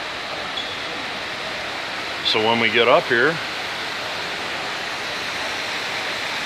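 Steady splashing water from an indoor fountain beside an escalator at a convention venue, a constant broadband wash throughout, with a person briefly talking over it midway.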